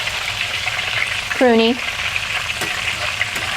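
Green beans dry-fry in a wok, giving a steady close sizzle with stirring, and a short spoken word cuts in briefly near the middle.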